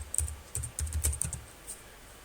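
Quick keystrokes on a computer keyboard, typed while entering commands in a MySQL console, come in short irregular bursts of soft clicks, close and fairly quiet, with brief pauses between.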